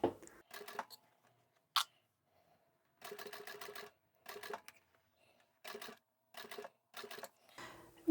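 A sewing machine stitches a fabric crossbody bag in short, separate bursts of rapid mechanical clatter, close and fairly quiet, with brief pauses between runs.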